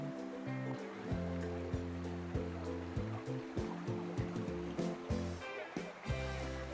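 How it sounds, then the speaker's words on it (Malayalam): Soft, steady rush of a small waterfall in Logar Valley, Slovenia, faint and constant, heard beneath a quiet melodic music track. "ചെറിയൊരു വെള്ളച്ചാട്ടം കുഞ്ഞൊരു വെള്ളം വീഴുന്നേ"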